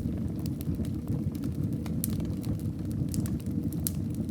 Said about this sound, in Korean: 벽난로는 계속 타고 있다.